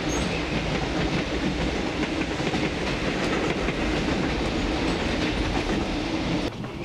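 A train to Manchuria rumbles steadily along its rails in a film, with a dense continuous roar and faint clickety-clack throughout, loud and close, with no voices.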